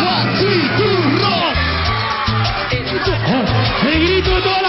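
A concert crowd of women at a 2011 cumbia show screams and whoops loudly and continuously over pounding music, the cheering rising in waves.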